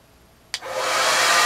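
A blow dryer switched on at high setting roars up suddenly after a moment of quiet and keeps blowing loudly and steadily, close by, with no talking.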